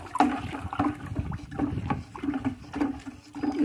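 Organic solution is stirred in a container of water to prepare gladiolus bulbs, making steady close swishing and sloshing with rhythmic liquid splashes throughout.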